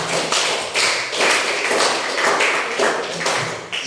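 A class of students applauds in a classroom, a close, bright patter of many hands clapping in several quick bursts for a few seconds, with no talking over it.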